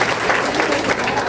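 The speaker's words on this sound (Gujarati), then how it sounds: "એક તો આપણે જો કઈ કે ચિંતન પર માટે જોરદાર તાળી." An audience at an inspirational success-story talk bursts into loud, dense clapping that fills the whole moment without a break.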